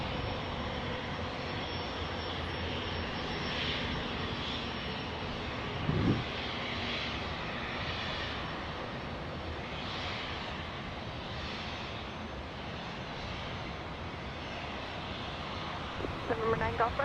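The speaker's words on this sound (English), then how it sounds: "Say goodbye to that Dassault Falcon." A Dassault Falcon business jet taxis or departs at Dallas Love Field in stormy, rainy weather. Its steady, broad jet roar sits at a distance with slow swells, and occasional faint knocks rise above it.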